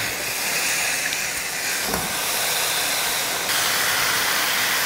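Chicken pieces added to hot spiced oil for a Tamil chicken curry, a loud continuous sizzling hiss that holds steady and intensifies slightly toward the end, up close with no voices.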